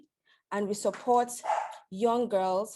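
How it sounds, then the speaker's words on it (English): A dog barks and yelps excitedly in the background of an online conference while a person keeps speaking over it, the barks running in short bursts under the talk. "my dog is acting wild in the background."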